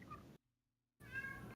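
A cat meows at a door in a short, faint clip: a brief meow, a moment of near silence, then a second meow.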